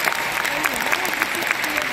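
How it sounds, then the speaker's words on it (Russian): Crowd applause fills an arena at a figure-skating ice show, a dense continuous roar of clapping with a voice faintly audible over it. "Спасибо вам действительно огромное за ваши аплодисменты"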